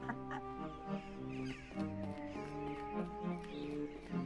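A cartoonish bird in the Little Misfortune video game gives a run of repeated nasal, honking, quack-like calls at moderate loudness, coming one after another in an uneven rhythm.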